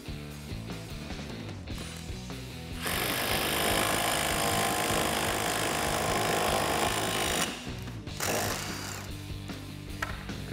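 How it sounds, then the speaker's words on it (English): A nut is driven down a wheel stud on a 2021-2022 Ford Bronco during a Rough Country 2-inch suspension lift install. A loud, steady mechanical whir runs for about four seconds between quieter clanking and handling noises. "I'm going to use a nut to pull the stud through."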